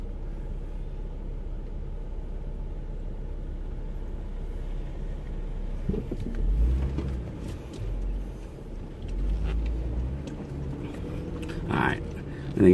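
Jeep JL and JK off-roading over an obstacle on the Holcomb Creek trail. A low engine rumble runs throughout and swells with heavier thuds and crunches as the vehicle climbs over the obstacle. Voices talk over it.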